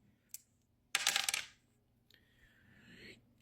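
Two dice rolled for a charge in a tabletop wargame of Age of Sigmar, clattering sharply onto a hard surface in one quick burst, then a faint rattling settle, heard close with no talking.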